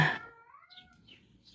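A house cat gives a single clear meow up close, rising and falling, followed by quiet room noise.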